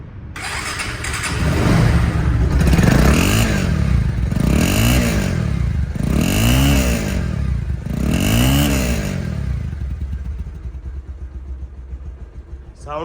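A second-hand 2020/21 motorcycle, nearly new with low mileage, idles loudly up close and is revved in four evenly spaced bursts that rise and fall before settling back to a steady idle.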